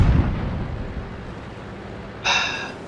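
An HE shell fired by a Jagdpanzer 8.8 bounces off a tank turret's side in World of Tanks: a low rumbling boom at the start, then a sharp ringing ricochet clang near the end.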